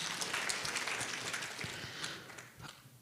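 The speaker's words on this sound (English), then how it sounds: "let's also give them a round of applause" Steady clapping from a crowd, fairly faint and distant, sustained for a few seconds then tapering slightly.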